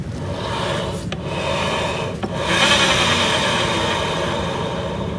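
A steady mechanical whirring with a rough, grinding rasp from a worn CVT pulley shaft bearing on a Honda BeAT FI scooter, close up, with two brief clicks in the first half.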